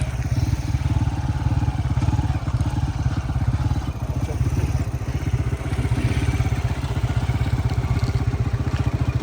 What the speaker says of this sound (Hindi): बाइक राइड करने का मज़ा ही कुछ और है।